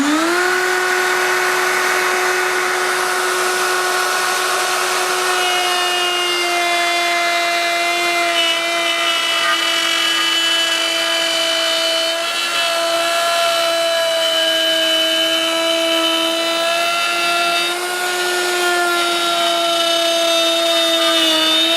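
Wood router cutting a straight groove in wood, a loud continuous high whine holding steady pitch for over twenty seconds, close by with no talking.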